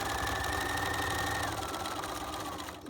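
Close, loud, continuous sewing-machine hum with a fast rhythmic needle knock as a pocket is stitched down with a 5/8 seam, holding steady before slowing at the end.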